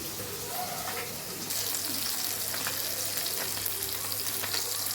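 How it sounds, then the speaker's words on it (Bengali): Potato and pointed gourd slices fry in a pan in a home kitchen, giving a steady sizzling hiss that grows louder and denser after the first moment and carries on without any talk. "এদিকে আলু পটলটা ভাজতে বসিয়েছি।"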